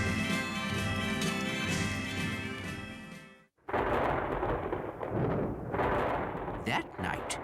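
Thunder from a terrific nighttime thunderstorm in an animated Twelve Days of Christmas story: after a brief sudden silence, a loud deep rumbling crack breaks out and rolls on heavily, following a stretch of music at the start.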